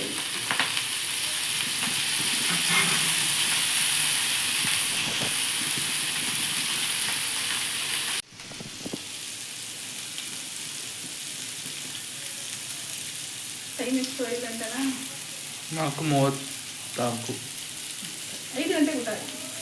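Oil sizzling and frying in a pan while cooking biryani and fish fry at home, a steady close hiss that drops after a clatter, with people talking over the quieter sizzle.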